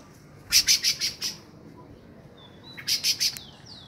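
Sabiá thrushes calling at a nest with chicks: two bursts of rapid, piercing high chirps, about five notes then four, close to the microphone over quiet background, with a few fainter thin whistles after.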